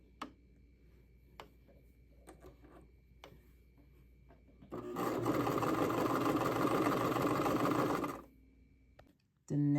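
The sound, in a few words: sewing machine stitching zigzag and straight stitches on a blouse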